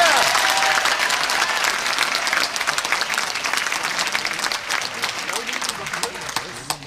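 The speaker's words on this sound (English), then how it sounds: "Would you applaud, please?" An audience at a public talk applauds, a dense wash of clapping that stays loud and slowly thins out over several seconds, with a few voices cheering under it.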